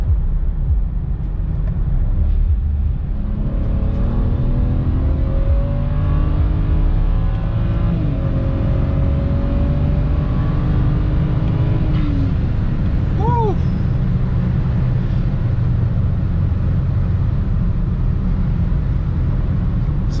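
A BMW 335i E92 with the N54 engine at stage 1+ tune pulls hard under acceleration, its engine note rising steadily in loud, close sweeps through the gears, with a short chirpy whistle partway through.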